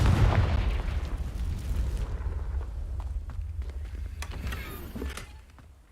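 Confringo spell explosion in a video game, a booming blast at the start followed by a rumbling decay with scattered crackling pops that fade away.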